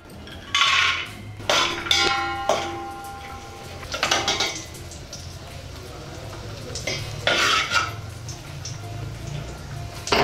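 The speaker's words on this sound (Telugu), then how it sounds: "అందులో 2 స్పూన్లు నెయ్యి వేసుకుని జీడిపప్పు కిస్మిస్ వేసుకుని దోరగా వేయించుకుందాం." Cashews and raisins fry in two spoons of ghee in a pan, with a faint sizzle under repeated metallic scrapes and clinks of a spoon stirring against the pan.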